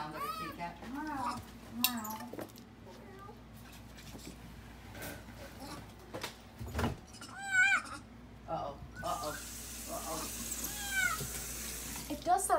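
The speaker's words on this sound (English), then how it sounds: "The little one sounds like a kitty cat." High, cat-like mewing cries repeat in short bursts from a baby monkey, mixed with running water and people talking nearby.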